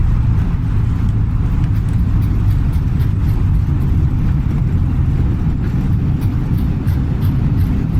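Airliner in Microsoft Flight Simulator 2020 rolling out after landing with reverse thrust and braking, a steady loud low engine roar and rumble held throughout without a break.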